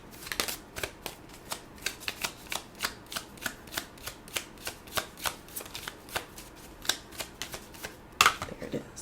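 A deck of affirmation cards being shuffled by hand, heard as a close, crisp series of rhythmic riffling flutters repeating at a steady pace, ending with a brief tap, no talking.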